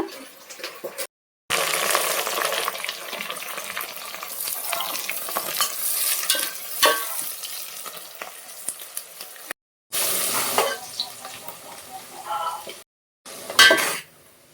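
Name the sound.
onions frying in a pan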